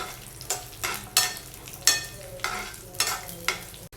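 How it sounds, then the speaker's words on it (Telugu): Grated coconut, cashews and raisins frying in ghee for bellam pongal, a steady close sizzle broken by repeated scraping stirs of a spoon in the pan, no voices. "నెక్స్ట్ ఇవన్నీ కూడా గోల్డ్ కలర్ వచ్చేంత వరకు ఫ్రై చేసుకోవాలండి"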